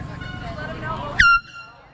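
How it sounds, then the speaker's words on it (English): A short, loud air horn blast cuts in over background chatter at a group cycling ride, a single sustained tone lasting a fraction of a second before fading. "Someone's got an air horn like yours?"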